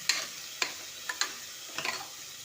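Lentils are roasted in a pan and stirred, making a quiet sizzle broken by several sharp scrapes of a spoon at an uneven rhythm.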